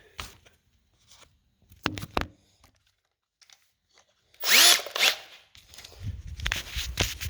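A power drill whirs in a loud burst of a second or so while drilling for rear sliders on a 1967 Camaro, followed by more motor noise and handling clatter, preceded by scattered knocks and taps.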